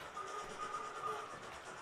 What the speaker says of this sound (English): Sounds like the Black 5 is enjoying running around as well.